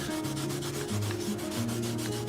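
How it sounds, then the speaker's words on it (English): Fine grit sandpaper rubbed steadily along the cut edge of a hat brim during restoration of a 70-year-old heirloom hat, a continuous close scratchy sanding with even back-and-forth strokes and no talking. "I'll use a fine grit sandpaper to really refine the edge"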